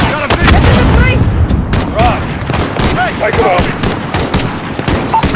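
Dense automatic and rapid gunfire from the Call of Duty Modern Warfare campaign, loud and continuous with sharp overlapping bursts and distant booms, while squad voices shout over the battle.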